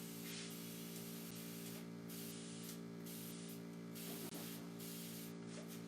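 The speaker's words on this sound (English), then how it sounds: "Spray my paintbrushes so they don't get too dry." A spray bottle mists water onto paintbrushes, a steady hissing spray that runs continuously and fairly faint over a constant electrical hum, with no talking.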